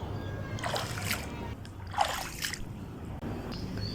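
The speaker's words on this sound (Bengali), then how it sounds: "পানিতে হাঁটছি আর আমার কাছে খুবই মজা লাগছে" Footsteps splash through rainwater flooding a rooftop, giving two close, distinct sloshing splashes and a fainter third against a steady wet background.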